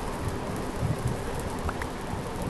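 Rain falls in the video game Minecraft, a dense, steady hiss with faint low rumbling and no voices.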